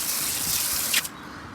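Hot water sprayed from a hose onto an air-conditioner coil, a steady close hiss of spray lasting about a second before cutting off abruptly, leaving a quieter background.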